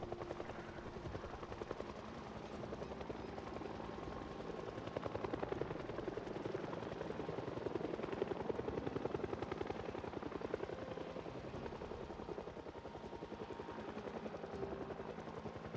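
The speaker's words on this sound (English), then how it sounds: "So maybe the helicopter disappears here on the hour." Helicopter circling overhead in the zombie survival game Project Zomboid, a steady low rotor thrum that swells and fades slightly as it passes, heard alone at moderate, distant-sounding volume.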